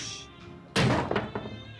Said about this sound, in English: And that's a carom shot.